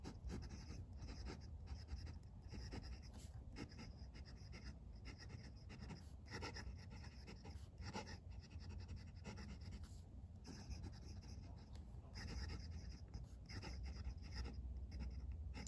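Ryan Krusac Legend L-16 Dragon Slayer fountain pen writing on paper, a soft continuous nib scratch with quick stroke rhythms, faint and close, with no talk.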